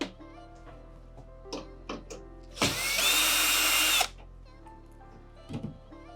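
A power drill backs screws out of a Fisher Paykel washing machine panel: one sustained whir of about a second and a half, close and loud, with a few short clicks and taps around it.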